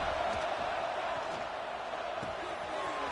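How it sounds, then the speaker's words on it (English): A home stadium crowd roars in a college football video game as the defense tries to get off the field on third down, a steady, broad wash of cheering noise that holds level throughout. "Here comes this home crowd as the defense tries to get off the field on 3rd down"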